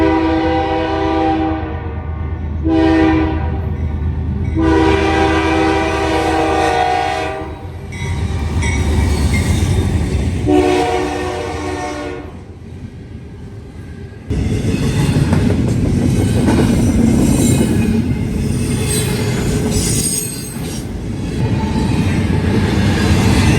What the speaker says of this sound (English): we observed 239 with a BNSF-9 Solo westbound through London,